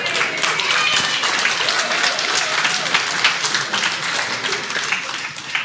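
A church audience applauds steadily, dense clapping filling the whole stretch at an even, fairly loud level before easing slightly at the end.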